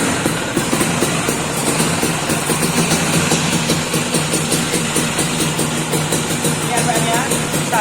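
A Vespa scooter engine idles at about 1000 rpm on a dyno in a workshop in Boyolali. The hum is steady and loud, with a rapid even pulse the whole time.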